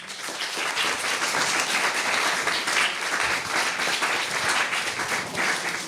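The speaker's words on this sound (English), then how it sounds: "give her another round of applause" A festival audience applauds as theatre artist Christiane Jatahy is welcomed on stage, producing a dense, sustained crowd clap that stays strong for about six seconds with no voices over it.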